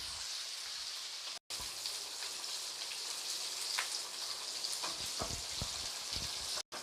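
Green chillies sautéing in a pan for a spicy chilli gravy, a faint, steady crackling sizzle with occasional soft pops and light stirring clicks, no talking.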